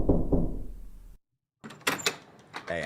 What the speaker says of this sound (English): That sound effect for knocking the door was a little too good.